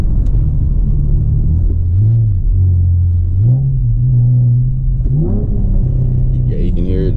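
Modified fifth-generation Chevrolet Camaro with a cold air intake, driving with a loud continuous engine rumble that rises and falls through gear changes, steady and close throughout.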